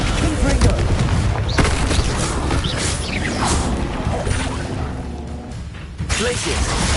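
In Hogwarts Legacy, the Confringo fire spell goes off in bursts of crashing, whooshing blasts amid a busy, loud combat mix, with a voice calling out spell names throughout.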